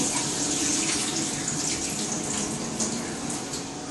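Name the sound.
draining hot water from a pot into the sink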